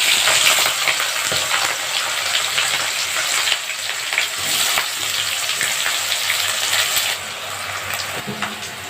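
Chopped onions fry in hot oil with dried chilli and bay leaf for a home-style chicken curry, a loud continuous sizzle with occasional stirring scrapes throughout.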